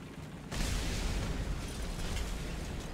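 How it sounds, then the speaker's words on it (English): Airstrike bombs dropped from a friendly plane in War Thunder's ground battle mode go off. A sudden heavy boom arrives after half a second and settles into a long, rumbling roar that lingers to the end. "You can see a bit of an airstrike at the A point there, so I know somebody just got bombs dropped on them from a friendly"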